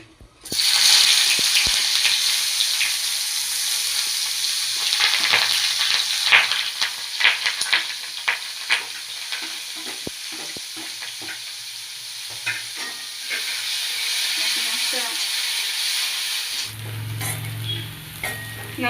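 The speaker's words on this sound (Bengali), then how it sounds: "ভাজা ভাজা হয়ে এসছে" Onions frying with whole garam masala in a pan for masala chicken curry, a loud, close, continuous sizzle with intermittent stirring clatter, softening in the final seconds.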